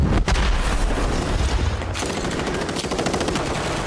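Loud, dense bursts of automatic gunfire from the battle royale video game Warzone rattle in rapid succession, with sharp cracks and booming impacts throughout.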